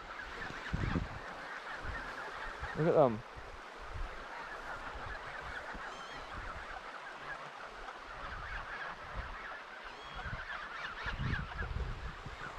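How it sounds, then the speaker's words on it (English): A field of geese honks outdoors, many birds calling at moderate distance with one louder close honk, over soft wind-like background; a person briefly speaks. "there's a whole field of geese here at the side."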